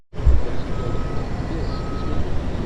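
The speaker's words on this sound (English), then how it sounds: "You see PA's truck in the background." A truck backing up gives off a steady tonal reversing beep in a few pulses. It sits over a loud, continuous engine and ground rumble close by, with no talk.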